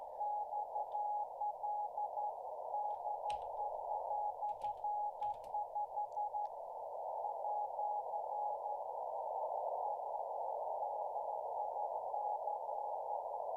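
A steady mid-pitched radio tone keys on and off in short Morse code bursts sent on a straight key, then holds unbroken, faint static and a few clicks around it.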